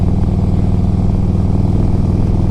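A 2004 Harley Davidson Electra Glide Ultra Classic with a rebuilt engine runs close and loud, a steady throbbing V-twin rumble with an even pulsing beat and no voices over it.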